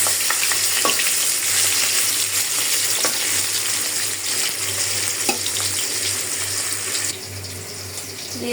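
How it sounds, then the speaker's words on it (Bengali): Fish frying in hot mustard oil, giving a steady, loud, close sizzle that runs throughout with a few small clinks and stirs and no talk. "তেলটা গরম হয়ে গেছে।"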